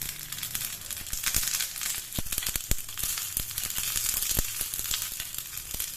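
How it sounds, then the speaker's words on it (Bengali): Mustard seeds and curry leaves sizzle and crackle in hot mustard oil for a chutney tempering, a dense steady hiss punctuated by sharp popping bursts, close and fairly loud, with no talking. "এখানে আমি কারি পাতার সর্ষেটা ফোড়ন দিয়ে নিলাম।"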